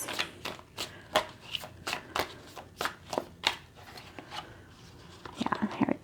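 Tarot cards are shuffled by hand in a steady run of soft, close riffling slaps, with a quiet voice murmuring underneath.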